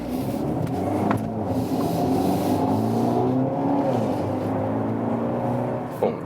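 A 2020 BMW X1 M-Sport xDrive with a 2-liter 4-cylinder engine accelerates, its engine tone climbing steadily in pitch through the gears, heard from inside the cabin with a faint voice briefly underneath.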